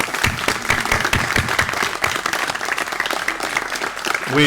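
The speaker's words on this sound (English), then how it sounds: "So a round of applause, please, for Brother Stephen Masoli." Guests at a First Vows luncheon give a sustained round of applause, dense and fairly loud, the clapping steady throughout with a slight swell near the end.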